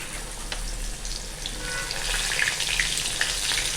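Slices of elephant foot yam and fish frying in hot oil, a continuous close sizzle and crackle with small pops scattered throughout, no voices.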